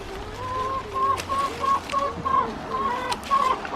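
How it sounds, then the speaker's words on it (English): Soft, repeated clucking of a chicken over steady outdoor background noise, moderately close. "It sounds like one of the chickens wants to come and give me a hand."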